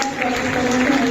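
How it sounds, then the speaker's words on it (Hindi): Loud, dense applause from an event audience at a charity gathering in Pushkar, a short burst of continuous clapping with a steady tone underneath. "एक बार जोरदार तालियों के साथ"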